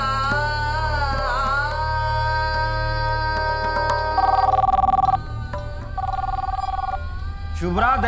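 A telephone rings in a domestic drama scene, with repeated electronic ring bursts over a sustained tonal background score.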